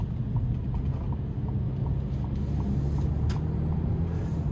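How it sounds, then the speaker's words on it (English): A 2025 Ford Maverick Lariat pickup with a 2.0-liter turbo and all-wheel drive accelerates, its steady low engine and road rumble heard from inside the cab, with no talking. "With minimal effort, this thing gets up and going with a 2-liter turbo"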